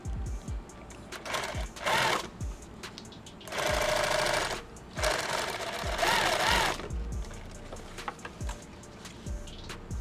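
A sewing machine stitches webbing for an ankle med kit, running in three loud sustained bursts separated by quieter handling pauses, close up and with no talk.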